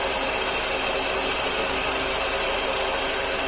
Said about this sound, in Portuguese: Agora, ó, se balança para lá e para cá, ó. Vendo, ó? Motor normal.